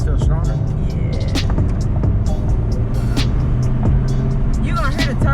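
A 10th gen Honda Civic Si accelerating hard with its turbo, a loud steady engine roar heard from inside the car, with people talking and reacting over it.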